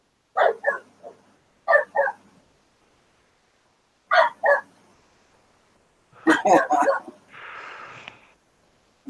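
Dogs give several sharp barks in short bursts, separated by silent gaps, close and fairly loud, with a final cluster of yips followed by a softer rustle.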